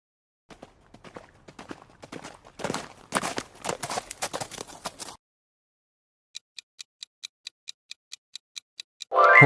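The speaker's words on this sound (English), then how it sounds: "Horse galloping." A galloping horse gives a quick, uneven run of hoof thuds that grow louder midway and then stop, followed by a row of steady clock-like ticks and a sudden loud burst.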